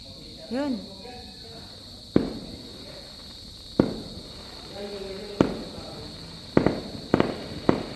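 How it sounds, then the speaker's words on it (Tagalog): Fireworks from a display at Sky Ranch burst in sharp separate cracks a few seconds apart, some in quick pairs, heard from a distance over a steady insect drone with brief talking early on. "Meron fireworks, guys, oh."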